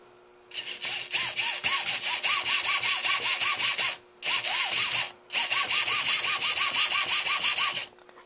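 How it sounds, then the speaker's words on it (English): Steering servos on a Losi 8ight-T 2.0 RC truck whirring back and forth in rapid repeated sweeps, a loud close buzzing whine in three bursts broken by short pauses. "Alright, so here's the servos."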